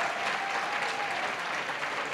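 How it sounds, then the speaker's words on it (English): Steady applause from an audience at a university leadership and engagement awards ceremony, honouring undergraduate and graduate award winners; dense, sustained clapping that fills the whole stretch with no voices over it. "How about another big round of applause, though, for all of our undergraduate award winners, the graduate award winners."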